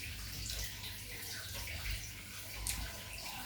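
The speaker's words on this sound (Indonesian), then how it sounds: "Habis itu keran yang gua perbaiki itu jebol guys." Water gushes steadily from a burst tap that had just been repaired at home, a continuous hissing rush with small surges, fairly quiet and heard alone.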